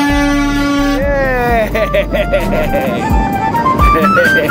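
A loud, sustained vehicle horn blares, then more honks follow with shifting pitch, mixed with voices nearby, at Port Stanley Beach, Ontario.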